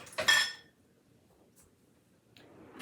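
A bowl set down into a kitchen sink, a single sharp ringing clink of dishware near the start, close and clear, followed by quiet with a couple of faint small taps later.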